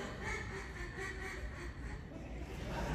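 A handheld duck call blown in a quick series of faint, raspy quacks, imitating a duck, with a low murmur of a crowd in the background.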